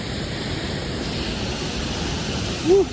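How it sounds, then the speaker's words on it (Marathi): A waterfall at Nitwade in a hilly trip setting gives a steady, broad rushing roar that fills the whole clip at moderate level, with a brief louder bump near the end. "धबधबा शेवट आहे शेवट इंग्लिशमध्ये म्हणलं तर वॉटरफॉल"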